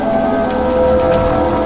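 Steady rain falls in the Android horror game Evil Non Horror Story, a dense, even hiss with a faint tonal hum underneath, constant and loud throughout with no voices.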